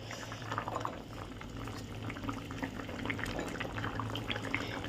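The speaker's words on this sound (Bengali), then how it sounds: "এদিকে দেখো ঝোলটাও কিন্তু ফুটে এসেছে" Fish curry broth with spinach, eggplant and potato boils steadily in a pot, giving a close, continuous bubbling and gurgling with a faint low hum beneath.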